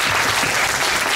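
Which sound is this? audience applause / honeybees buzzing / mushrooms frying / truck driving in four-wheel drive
audience applause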